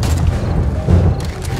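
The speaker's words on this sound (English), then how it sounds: "Another explosion." An in-game explosion in the survival game 7 Days to Die gives a dense, sustained low rumble with crumbling debris as part of a house collapses during a blood moon horde, loud and continuous.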